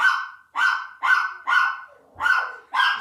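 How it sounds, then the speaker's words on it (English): A dog named Mona barks indoors in a kitchen, six sharp, evenly spaced barks at moderate distance, loud and clear with brief silences between them. "You can hear Mona the dog in there barking."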